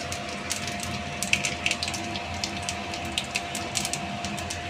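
Panch phoron seeds crackle and sizzle in hot oil left from frying potato, a dense steady fizz with small popping bursts under a faint constant hum.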